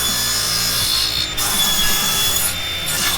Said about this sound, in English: It's way easier to make a cross cut on a cross cut sled for a 12 inch cut